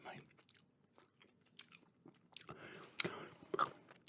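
Close-miked gum chewing in a quiet room, with soft wet smacks and clicks in an uneven rhythm that build to louder bites near the end.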